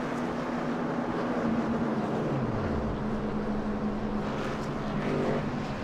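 Race car engines at Pocono, heard as a steady broadband roar with a distant engine tone sweeping downward mid-clip, like a car passing or lifting off, with no talk.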